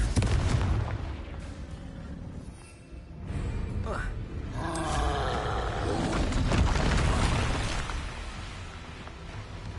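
A fire spell bursts in the Hogwarts Legacy game: a deep, rumbling explosion swells and roars for several seconds, then a second fiery blast and crackling tail follow, loud and close over a thick game soundscape.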